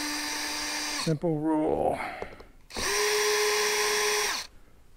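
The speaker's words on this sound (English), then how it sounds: "So we're gonna take some of these screws out and see if we can get it off." A power drill backs screws out of an old, rotted redwood deck cabinet in two loud, close whirring bursts, and someone speaks briefly between them.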